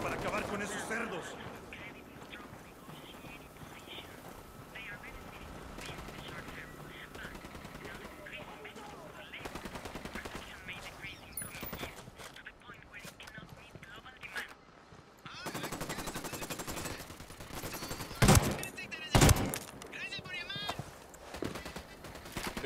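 Gunfire in Ghost Recon Wildlands during a raid, with bursts of rapid shots that swell toward the end, mixed with quiet game voices and radio chatter.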